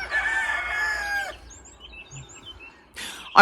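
A rooster crows loudly up close, a long cock-a-doodle-doo, followed by quieter bird chirps and a brief clucking burst at the end.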